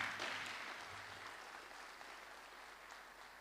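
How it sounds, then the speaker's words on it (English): Sustained applause from a large crowd, a dense wash of clapping that fades slightly over a few seconds. "it deserves a very big round of applause"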